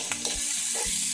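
Ham sizzling and frying with red onion in a pan at breakfast, a steady broadband crackle close by, with a couple of low thumps as the food is stirred or shifted.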